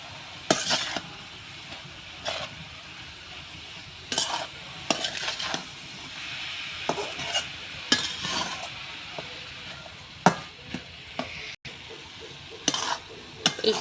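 Kalai greens are stir-fried in a pan as salt goes in. A steady sizzle sits under frequent sharp clacks and scrapes from a spoon against the pan, close and irregular.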